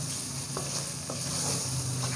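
Spices and tomatoes stirred and frying in a pan over medium heat while cooking arvi masala, a steady close sizzle with a few soft scraping strokes of the spoon.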